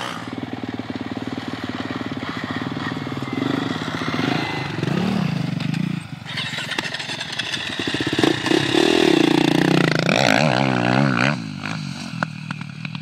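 Honda CRF 250X, Yamaha YZF 450 and KTM 450 dirt bikes on a track, engines revving loudly and continuously, with rising and falling pitch as the bikes pass close by.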